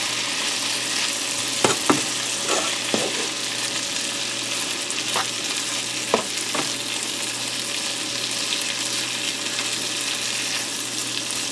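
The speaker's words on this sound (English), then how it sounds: "Put those right in the pan. You just want to brown these up a little bit." Potatoes browning in melted butter in a pan, giving a loud, continuous frying sizzle with a few sharp scrapes and knocks from stirring early on.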